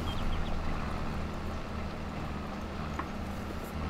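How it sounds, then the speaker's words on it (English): Steady low engine drone from a brand-new tractor pulling a disc harrow across a field in Farming Simulator 22, a constant rumble with faint higher clatter, no pauses. "But this disc harrow has been great."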